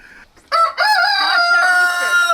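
A rooster crows loudly and close by, one long drawn-out call with a rising then sustained, raspy tone, after a brief faint sound at the start.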